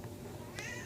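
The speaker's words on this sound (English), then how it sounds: "that was my cat meowing." A domestic cat gives one brief meow in a quiet bedroom, faint and somewhat distant over a low background hum.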